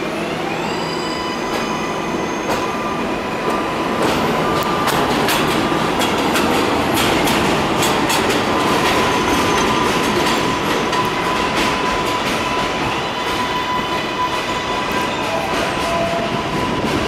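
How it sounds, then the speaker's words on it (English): A New York City R188 subway train on the 7 local line rumbles steadily along the track, with clattering wheels, a continuous roar and occasional high squeals, loud and close throughout. "This is a rushing Main Street bound 7 local train."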